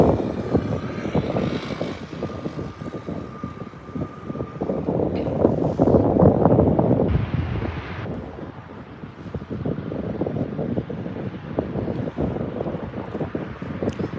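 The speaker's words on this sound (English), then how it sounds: "1723 going to Portland in Airbus A319-114, taking off on 24 right here at LAX" A Delta Airbus A319-114 takes off from runway 24R at LAX, its engine roar building loud and steady for the whole stretch, with gusty wind noise hitting the microphone.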